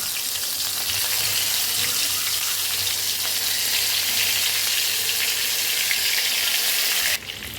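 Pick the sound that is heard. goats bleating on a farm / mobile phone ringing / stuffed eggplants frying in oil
stuffed eggplants frying in oil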